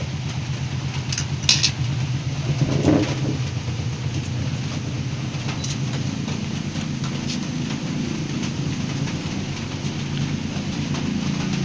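Steady rain pouring outdoors, a dense, even hiss that runs without a break, with a faint low rumble that may be distant thunder and no talking.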